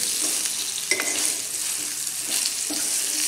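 Okra sautéing in oil with mustard seeds and urad dal crackles in a pan, a steady sizzle punctuated by a few spatula scrapes and knocks, no voices.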